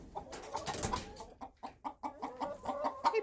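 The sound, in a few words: chicken clucking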